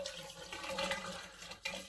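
Antifreeze poured into a shower drain trap during house plumbing winterizing, a steady splashing, trickling liquid stream close up, without talk.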